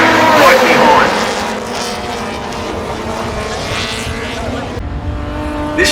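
Several 1960s race cars, including an E-Type Jaguar and an Alfa TZ2, launch off the start line at Warwick Farm, a loud roaring engine rush that settles into a droning blend under commentary speech.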